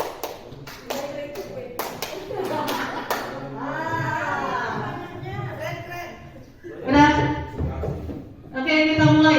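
A group claps in quick counted bursts, several sharp claps early on, then voices, including children, talk and call out loudly over the remainder.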